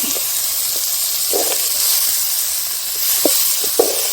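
Steady sizzling and hissing of duck meat frying in a pan, with occasional soft stirring scrapes and bubbling pops throughout.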